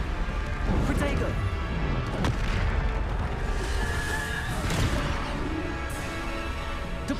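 Bombarda spell blasts in Hogwarts Legacy, with repeated booming explosions and crashes at irregular intervals over a busy, loud combat din. Spell incantations are shouted throughout.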